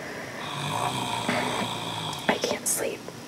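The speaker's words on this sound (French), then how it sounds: "il ronfle vraiment très fort." A man snores loudly and steadily in a bedroom, long rasping breaths repeating close by, followed by a few sharper snorts and shuffling sounds.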